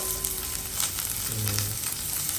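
Garlic and then onion sautéing in a pan for chicken adobo, a steady close sizzle with faint stirring and brief tonal clinks, no voices.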